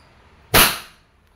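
A Wingun 708 air revolver fires one single-action shot, a sharp loud crack that decays quickly, with no voices heard.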